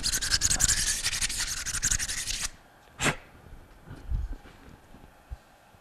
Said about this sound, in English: We're gonna scuff up the inside, score it just a little bit